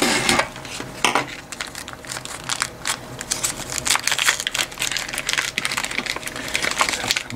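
A small plastic parcel sent from China is torn open and handled up close, giving steady crinkling, rustling and tapping with dense sharp clicks, continuous over several seconds, with no talking.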